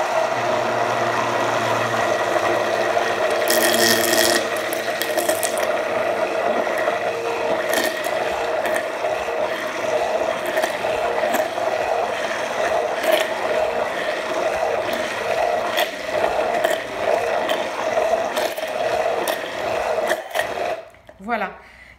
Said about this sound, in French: Je commence à mixer. En fait, je mixe les ingrédients qui sont en bas